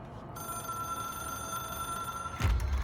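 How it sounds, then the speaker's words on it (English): A telephone rings in the game Control, a bright, sustained electronic bell tone held near and steady, then broken by a sudden low thump near the end; no one speaks. "It is a phone."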